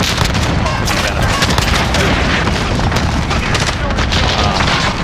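Shotgun fire in the video game Modern Warfare comes as dense, continuous booming blasts over loud game noise, with a voice talking over the action.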